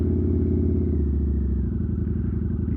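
A 2022 Harley-Davidson Nightster motorcycle engine runs close by with a loud, steady low rumble that shifts in pitch partway through, heard alone without talk.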